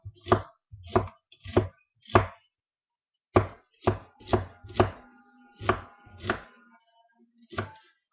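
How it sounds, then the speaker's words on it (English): A kitchen knife minces ingredients for low-calorie chili on a cutting board, about eleven crisp, evenly spaced chops with short pauses in between and no talk. "So let's go ahead and do your best to mince up. Get your favorite knife out."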